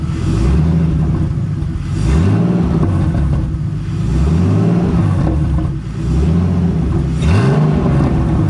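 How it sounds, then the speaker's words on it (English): A turbocharged BMW E46 engine revs repeatedly, with several rising pulls about every two seconds over a steady, loud idle rumble close by. "I'm gonna rev it so you guys can hear"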